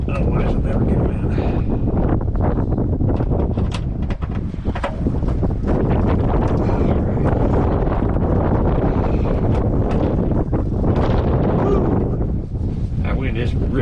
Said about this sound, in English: That wind is ripping pretty good,